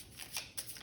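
Tarot cards being shuffled by hand during a card reading, a short riffle of soft papery slaps with two brisk bursts, close and fairly quiet, no talking.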